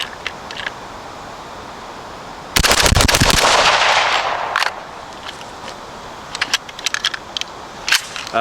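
A loud, rapid volley of rifle shots through an Unrivaled Technologies tunable muzzle brake rings out close by, trailing off into a long echoing decay, followed by scattered mechanical clicks.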